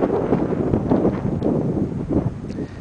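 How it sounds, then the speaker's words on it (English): Wind blowing steadily outdoors near the Pacific coast, a continuous broadband rush with gusty swells and low rumble, fairly loud and close to the microphone, no voices. "Listen to the wind."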